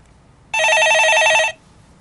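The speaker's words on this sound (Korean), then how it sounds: "예, 전화 걸어보겠습니다." A telephone rings while a call is being placed: one loud, electronic warbling ring lasting about a second, standing alone against quiet line hiss, with no talk over it.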